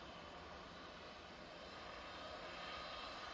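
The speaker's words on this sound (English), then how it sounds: "SAS will be next in using their A320 Neo." An SAS Airbus A320neo airliner comes in to land at Manchester Airport, its engines giving a steady, broad roar that holds level and swells slightly toward the end, with no voices.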